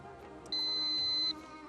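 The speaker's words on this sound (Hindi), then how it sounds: "जी टीम समझदार ने बजर दबा दिया है।" A game show buzzer is pressed, giving one steady, bright electronic beep of under a second against a low studio background.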